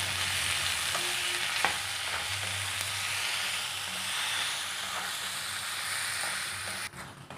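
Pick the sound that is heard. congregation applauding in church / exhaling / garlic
garlic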